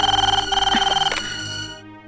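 A telephone rings with a rapid pulsing electronic trill, then cuts off and fades amid some background clatter.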